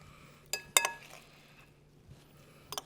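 A turkey burger patty rolled around a bowl brings a few sharp clinks and knocks against the dish, scattered and fairly close over a quiet background.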